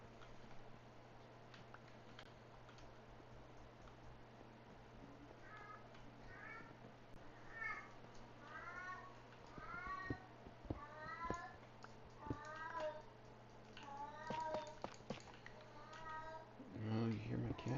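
A pet cat meows over and over, a run of short plaintive cries that grows more insistent, while a person talks softly in the background.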